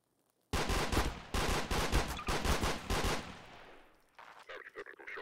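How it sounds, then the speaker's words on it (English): Rapid automatic gunfire in the game Garry's Mod Trouble in Terrorist Town, a dense loud burst of repeated shots lasting several seconds before tapering into lighter noise. "He's shooting me,"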